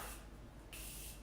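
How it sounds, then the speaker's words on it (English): Mist sprayed onto a face from a spray bottle during a makeup routine: two short, close hissing bursts, one at the start and a longer one midway. "And I spray my face again."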